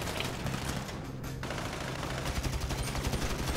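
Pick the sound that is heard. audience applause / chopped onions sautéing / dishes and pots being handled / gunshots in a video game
gunshots in a video game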